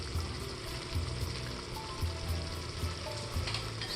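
Sauce sizzling in a pan while being stirred, a close, continuous frying hiss with soft, periodic scraping strokes and no voices.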